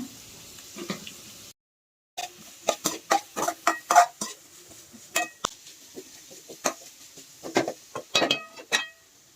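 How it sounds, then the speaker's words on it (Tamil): Cut three-colour capsicum tipped into a pan for chicken fried rice, giving a run of sharp clinks and scrapes of a spoon against the metal pan, close and fairly loud, after a brief silent gap. "இப்போ 3 கலர் கேப்சிகம் கட் பண்ணி வச்சுருக்கேன், அதை சேர்க்குறேன்."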